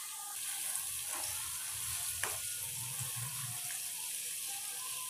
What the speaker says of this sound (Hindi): 1 मिनट के लिए हम इसको भी साथ फ्राई करेंगे ताकि जो लहसुन की स्मेल है वो ख़त्म हो जाए।